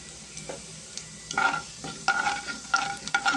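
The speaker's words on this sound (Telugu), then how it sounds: "జీలకర్ర కొంచెం ఫ్రై అవుతాయి ఫ్రెండ్స్" Cumin seeds frying in oil with dried fish, a low crackling sizzle punctuated by several scraping stirs in the pan, close and moderately loud, without voices.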